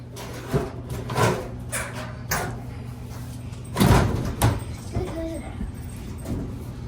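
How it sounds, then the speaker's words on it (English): Closet doors beside a washer and dryer slide along their track with rolling rumbles and a couple of soft thuds as they close, close by, while a person talks. "The doors actually close like this."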